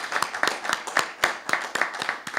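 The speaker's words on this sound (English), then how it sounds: "let's just applaud our new members" Rapid, uneven hand clapping from a church congregation welcoming new members, close and fairly loud, continuing steadily throughout.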